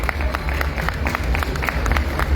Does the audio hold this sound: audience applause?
yes